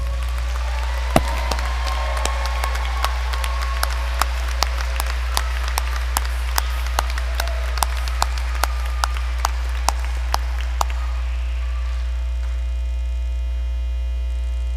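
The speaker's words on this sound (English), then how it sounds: "Please give them one last round of applause." Audience at a nursing pinning ceremony claps in sparse, scattered bursts that keep coming at a steady, unhurried rate, then thin out, all over a constant low electrical hum in a large hall.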